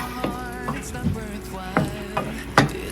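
A spoon stirs spaghetti sauce into a baked potato supreme topping. Several scraping, clattering strokes come at irregular intervals over a faint background sizzle, with no talk.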